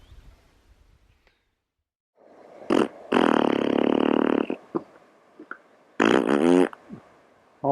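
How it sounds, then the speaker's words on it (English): A reindeer breaks wind outdoors near a road on a cycling tour across the Finnish border, with several loud, sputtering blasts, one long and sustained, then a shorter burst after a pause, heard close by with no talk. "Oh man, that reindeer's got the farts."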